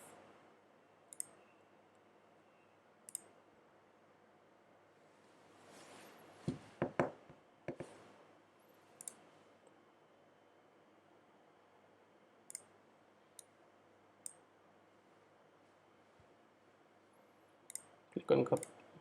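Computer mouse clicks while data is imported into a spreadsheet, scattered single clicks at irregular intervals with a short cluster near the middle and another at the end, quiet and close.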